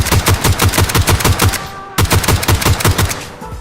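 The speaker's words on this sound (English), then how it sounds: "this next guy will really show you how good this G36 is as a single tap weapon" Loud G36 rifle gunfire in PUBG on Xbox: a rapid, steady string of sharp shots, then a brief pause near the two-second mark before a second run of shots, with no voices.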